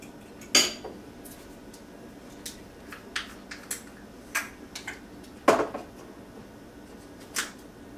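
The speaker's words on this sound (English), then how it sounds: "I'll mix that in real good" Utensil scraping and clinking against a bowl while apple pie bread pudding ingredients are stirred together, with sharp, irregular knocks and clinks over a low, steady background; no voices.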